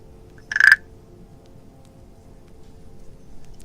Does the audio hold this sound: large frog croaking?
yes